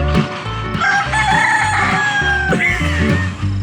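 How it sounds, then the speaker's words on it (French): Roosters crow in Mexico, several birds calling loud and close over one another in long overlapping cock-a-doodle-doos, with clucking fowl and background farmyard noise and no speech. "il y a des coqs ici, ça crie là,"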